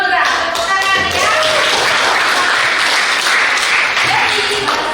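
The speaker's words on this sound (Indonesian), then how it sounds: "Tepuk tangan ya." Students at a vocational high school clap in a classroom, loud close applause with a few sharper taps, while a voice speaks over the clapping.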